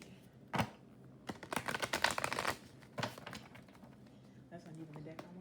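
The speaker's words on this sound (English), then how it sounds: "We're gonna get some tarot here. I'm trying to shuffle." Someone shuffles a deck of tarot cards up close, making quick flurries of crisp riffling clicks and taps in uneven bursts with quiet gaps between them, and a voice speaks softly at times.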